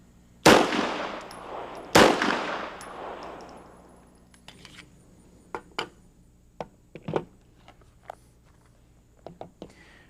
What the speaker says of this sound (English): Pause and fire the final 2 aimed shots.